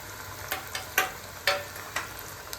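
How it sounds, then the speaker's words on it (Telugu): Papu garelu vadas slipped one by one into medium-hot oil, each drop giving a short crackling sizzle roughly every half second, fairly close and moderately quiet, with no voices. "ఇలా చేసిన వడలను మీడియం హాట్ ఆయిల్లో నిదానంగా యాడ్ చేసుకుందాం."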